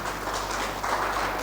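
A group of police academy trainees claps loudly together after a guided meditation session, a dense, sustained patter of hands with no speech.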